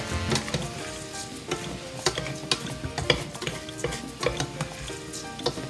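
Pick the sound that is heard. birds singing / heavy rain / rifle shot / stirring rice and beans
stirring rice and beans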